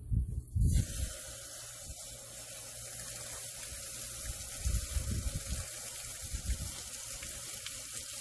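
A steady, close water spray from a power washer rinses out the inside of a freshly dispatched chicken carcass, running continuously after a brief knock at the start, with no talking.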